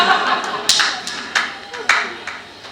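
A small audience claps at a Hindi comic poetry event, a handful of sharp, separate claps spread across a few seconds.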